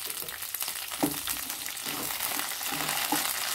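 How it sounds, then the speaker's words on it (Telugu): Green chillies, slit and chopped, frying lightly in hot oil in a pan: a continuous crackling sizzle with occasional soft knocks of stirring, close and moderately loud, no voices. "ఇవి లైట్గా వేపుకోవాలి"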